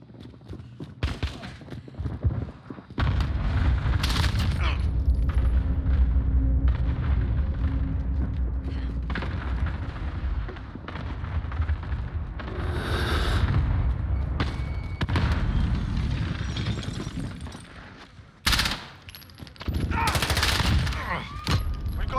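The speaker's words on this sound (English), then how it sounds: "Enemy cluster strike incoming. Take cover." Cluster strike explosions in Call of Duty 2019, loud dense booming blasts and crackling gunfire rolling almost continuously, with a brief lull before a final burst.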